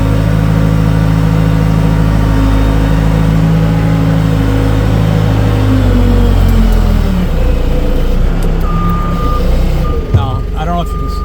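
A forklift engine labors as it climbs a hill, a loud, steady drone close by that slowly drops in pitch and fades, with a high reversing beep sounding near the end.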